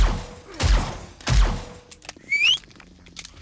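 Two sharp gunshots ring out about a second apart during a werewolf attack on a base in 7 Days to Die with the Rebirth mod, followed by thin squeaks and scattered small clicks.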